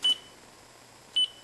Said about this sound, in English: So that's the one I would use each time I press a key. I would get a little bip.